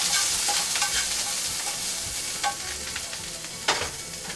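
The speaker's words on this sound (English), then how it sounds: "I'm going to add some jalapenos to a pan." Jalapenos crackle and sizzle in a little leftover oil in a pan, a steady frying hiss with scattered pops and brief stirring scrapes, close and fairly loud throughout.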